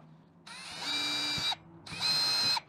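A power drill bores holes for a rod buckle install near a rod locker, whirring in two close, loud bursts of about a second each with a short pause between.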